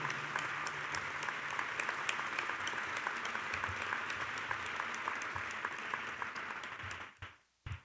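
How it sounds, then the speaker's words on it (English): Audience at a 30th anniversary tribute event applauding steadily, a dense wash of clapping from a large room that carries on and then dies away near the end. "Give a round of applause for 30 years of commitment to"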